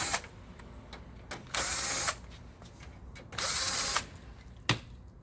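Two bursts of a power screwdriver whirring, each lasting about half a second, as screws are backed out of the cover of a Ricoh MP C6004/4504 fax kit installation, with small clicks and handling noises between them.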